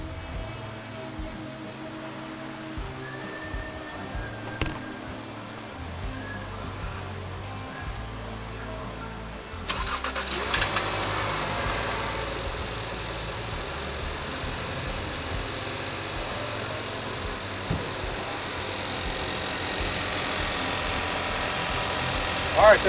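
A 2016 Volkswagen Passat with the CPRA engine cranks and catches partway through, then settles into a steady close idle that keeps running to the end, with someone talking over it.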